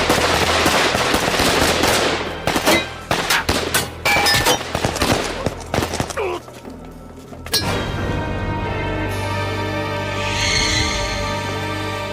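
Loud gunfire rings out in a kung fu film: a dense volley of rapid shots and cracks, then a short pause before a sustained roaring, ringing aftermath.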